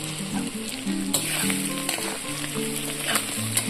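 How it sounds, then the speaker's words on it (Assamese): Ginger and garlic fry in a pan for a traditional Assamese pork dish, crackling with a loud, steady sizzle and occasional stirring scrapes, with no talk. "মই আদা আৰু নহৰুখিনি একেলগে দি দিলোঁ"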